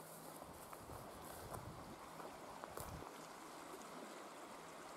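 The Salmon River ripples through its canyon, a faint, steady wash of flowing water with soft irregular splashes and trickles, heard alone without voices.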